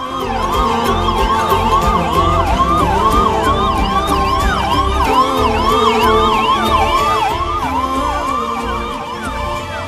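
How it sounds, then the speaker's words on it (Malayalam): A 108 ambulance siren wails in repeated rising-and-falling sweeps as it races through a crowded festival procession, loud and continuous over a dense low rumble of crowd and traffic. "രോഗിയുമായി 108 ആംബുലൻസ് ചീറിപ്പാഞ്ഞെത്തിയത്"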